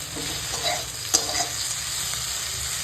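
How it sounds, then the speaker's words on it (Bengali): Bitter gourd (karela) slices fry in a pan with a steady, close sizzle, broken midway by a brief sharp clack of stirring. "করলা ভাজাগুলো প্রায় হয়েই এসেছে রান্না হয়ে যাবে"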